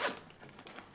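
A heavy-duty zipper on a backpack at least 30 years old makes one quick, close zip that starts with a sharp burst and then fades into a short rasp, with no talking.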